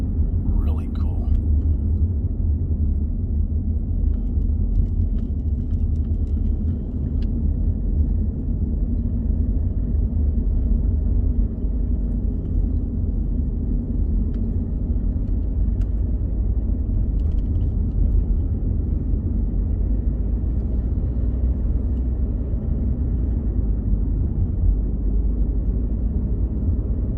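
A car drives along a winding road through horseshoe turns, its steady low road rumble and engine drone constant and close throughout, with faint murmured voices over it.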